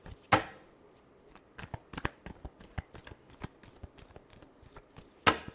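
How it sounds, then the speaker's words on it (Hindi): Tarot cards being shuffled by hand, two sharp riffling bursts at the start and end with softer card slaps and taps in between, close and clear without talk. "last shuffle"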